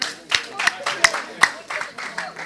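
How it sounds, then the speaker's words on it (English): A few audience members at a talk give scattered, uneven claps, about eight distinct sharp hand-claps spread over a couple of seconds rather than a full ovation. "Give yourselves a clap."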